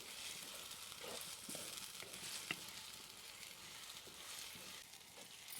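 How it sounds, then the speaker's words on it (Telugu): Masala paste of tomato and spices frying in oil for egg masala curry, a soft steady sizzle with faint stirring scrapes, quiet and close, no talk. "ఈ పేస్ట్ పచ్చి వాసన పోయే వరకు కొంచెం మంచిగా వేయించుకోవాలి"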